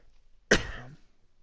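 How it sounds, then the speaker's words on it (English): A single short cough, sudden and close, in an otherwise quiet room. "Pardon my cough"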